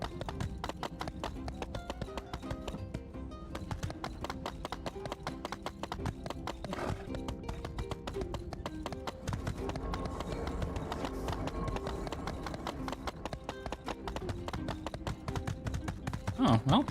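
Horse hooves clip-clop steadily in a video game, a continuous trotting rhythm set against game music and ambience, with someone talking at points.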